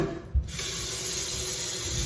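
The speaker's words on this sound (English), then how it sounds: "I'm finna fill this up with some water" Water runs steadily from a kitchen sink tap into a cooking pot, a loud continuous hissing splash after a brief knock at the start, with no speech.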